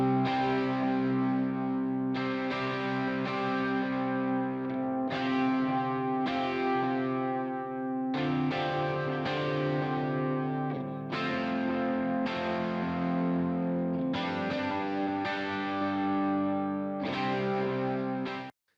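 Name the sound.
electric guitar with FabFilter Pro-Q low cut switched in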